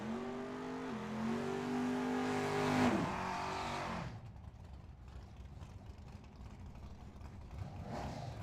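A 1968 Mustang GT California Special at a drag strip launches with a loud, rising rev that holds and climbs for about three seconds, then drops away abruptly, leaving faint distant track noise.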